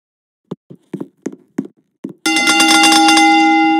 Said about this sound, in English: Bell was wrong.